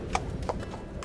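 Horses shifting and stamping inside a horse trailer, a few sharp hoof knocks on the floor over a low rumbling background, fairly close.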